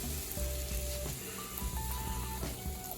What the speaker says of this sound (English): I leave my stove on and let it cook just a little bit so I get that perfect crust on the bottom of it